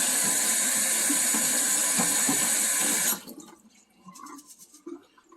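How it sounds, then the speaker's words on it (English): Water runs hard from a tap over ingredients in a basic strainer for about three seconds, then stops, leaving faint drips and small handling sounds. "Put them in there. And give them a little rinse."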